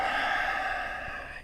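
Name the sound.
breathing out during yoga exercise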